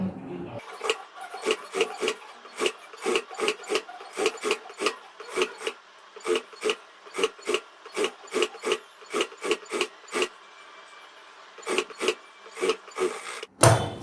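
A sewing machine stitching a blouse in quick repeated short bursts, each run of stitches sounding as a rapid rasping whir, close and fairly quiet, with brief pauses between runs.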